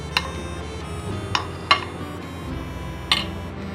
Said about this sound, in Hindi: अच्छे से क्रीम को हमने मिक्स कर लेना है